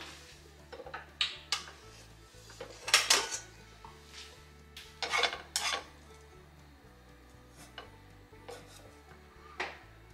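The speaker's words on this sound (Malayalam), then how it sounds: "ഇത് കുക്കർ തുറന്ന് നോക്കാം." A pressure cooker of mussels being opened, with sharp metallic clinks, scrapes and knocks of the lid and pot in irregular bursts, close and fairly quiet between the louder clanks.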